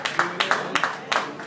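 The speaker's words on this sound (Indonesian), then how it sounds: "Tepuk tangan dulu dong." A concert audience claps in quick, uneven bursts, a handful of sharp overlapping claps recurring across a short stretch, moderately close and fairly loud with a faint voice underneath.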